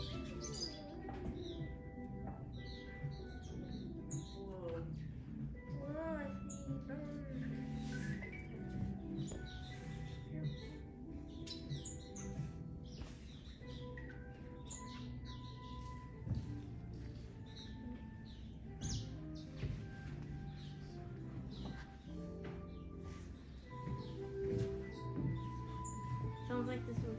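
Birds chirp and tweet at the Pittsburgh Aviary, with scattered calls and doves cooing over background music and the murmur of visitors talking.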